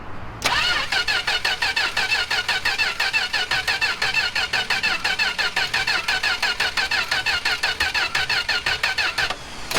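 A forgotten four-door Mopar car's engine cranks without starting, a loud, close, rapid rhythmic churning of the starter that runs steadily for about nine seconds and never catches.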